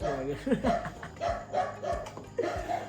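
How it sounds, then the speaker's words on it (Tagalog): Dogs bark repeatedly nearby in Bangui, Philippines, in uneven bursts, some yips rising in pitch, the barks overlapping and coming in quick succession. "Ang ingay ng mga aso"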